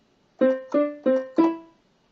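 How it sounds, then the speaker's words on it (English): Four short, detached notes played evenly on a keyed instrument, each clipped off quickly with silence between them. "you need to play the music staccato, which is short or detached"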